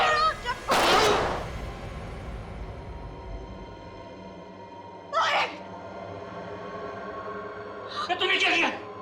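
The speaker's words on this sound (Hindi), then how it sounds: "तेरे वजह से गोली चल गई।" A single loud gunshot cracks out near the start of a scene in a Hindi TV crime drama, followed by a couple of shorter sharp bursts later over a low background.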